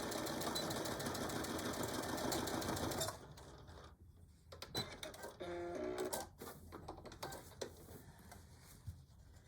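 A sewing machine stitches a tool bag with a dense, rapid mechanical whir for about three seconds, then slows into softer, intermittent clicks and short runs during a back stitch.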